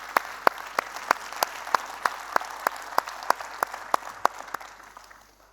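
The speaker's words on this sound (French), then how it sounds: "on peut tous les applaudir" Applause at a bank's general assembly sounds as a crowd's clapping, with sharp regular peaks from one or two nearby clappers over a softer spread of hands, fading away at the end.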